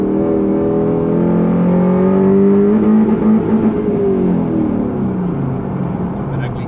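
A Mazda ute fitted with a 3UZ V8 and a five-speed A650 automatic revs hard and holds near its rev cut, giving a loud, sustained droning roar with the pitch rising, then dropping back.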